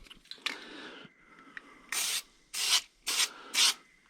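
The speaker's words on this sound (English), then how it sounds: "I'm just going to give it a good bath with that corrosion protective spray" Corrosion protective spray hisses onto a shear pin lying on a paper plate in four short, loud bursts, after some quieter handling and rubbing noises.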